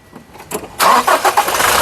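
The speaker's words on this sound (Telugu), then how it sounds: "సింగిల్ సెల్ఫ్లో కార్ స్టార్ట్ అవుతుంది ఎటువంటి స్టార్టింగ్ ట్రబుల్ అయితే లేదు" A 2018 Toyota Innova Crysta 2.4 G diesel engine cranks briefly and fires on the first try, then settles into a loud, steady idle close by with no voices.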